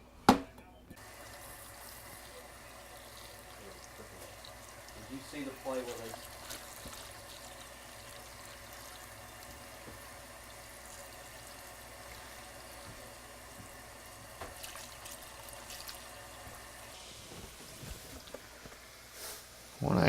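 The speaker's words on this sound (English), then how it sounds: "We'll do that with all of our potatoes and then cover with enough water to cover." Tap water runs steadily into a pot of potatoes cut into roughly one-inch chunks in a home kitchen, a continuous even splashing rush that carries on for most of the span before cutting off near the end.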